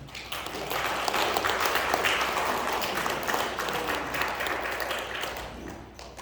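Congregation at a Sunday church service in Colorado Springs applauding to welcome newcomers, a dense, steady wash of many hands clapping at close-to-moderate distance, holding level for several seconds before easing slightly at the end.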